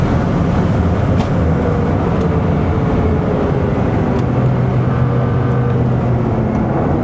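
A race car running flat out at full throttle through the Antoniusbrücke section and down into a dip on the Nordschleife, a loud continuous engine roar with steady road and wind rumble throughout, no talking.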